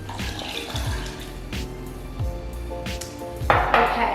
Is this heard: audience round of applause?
no